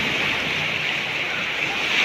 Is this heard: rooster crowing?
no